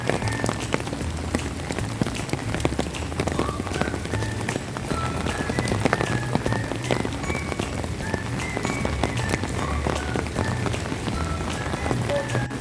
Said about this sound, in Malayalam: മഴത്തുള്ളി വീഴുന്ന ശബ്ദം പോലും മനസ്സിന് ആശ്വാസം നൽകുന്നു.